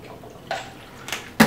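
Liquid splashes into a cocktail mixer cup in three brief bursts, the last one loudest and sharpest, with quiet room tone between the pours.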